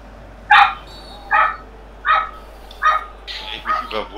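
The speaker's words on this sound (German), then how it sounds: "Der Hund schimpft über unser Spiel" A dog barks during an online FIFA 16 pro club match, with five or six sharp, close yips at a steady interval of about one per second, the last few coming quicker and softer.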